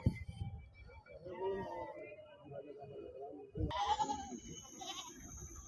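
Goats and kids bleat intermittently amid outdoor background noise at the weekly Husnabad livestock market, with people talking nearby.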